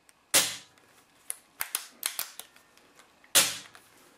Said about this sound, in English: Squeeze that shot off and it's literally just pull the bolt back